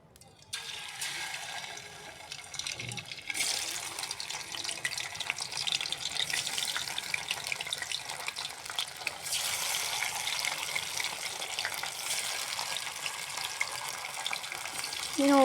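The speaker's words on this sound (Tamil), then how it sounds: "எண்ணெய் நல்லா காஞ்சி வச்சு இப்போ மீனை ஒவ்வொன்றா போட்டுக்க வேண்டியதுதான்." Fish pieces fry in hot oil in a pan, a steady loud sizzle and crackle that starts abruptly and runs continuously near the microphone.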